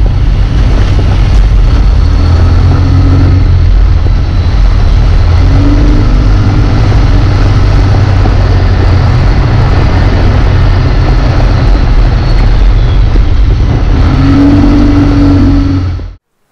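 A 2020 Yamaha Wolverine X4 side-by-side ridden solo, its engine droning loud and steady close up with rough low rumble and a few rising revs, cutting off abruptly at the end.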